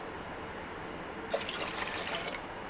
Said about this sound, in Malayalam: ബാക്കി വെള്ളവും കൂടി നമുക്കിതിൽ ഒഴിച്ച് കുക്കറിലേക്ക് ഒഴിക്കാം